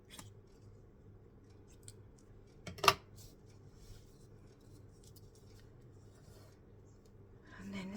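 Scissors snip through striped paper to shape a banner for a coastal-themed embellishment cluster, with one sharp close cut in the middle among faint rustling and handling in a quiet room.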